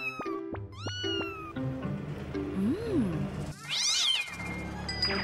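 A cartoon kitten meows several times in high, bending cries over a bed of animated background music and effects, the calls rising and falling through the clip.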